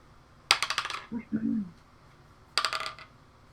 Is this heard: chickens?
no